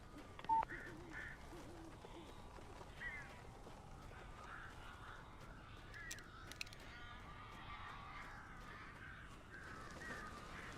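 Crows caw now and then in a dark, eerie scene in Alan Wake Remastered, a few distinct calls scattered over a steady low ambient rumble, with one brief sharp sound near the start.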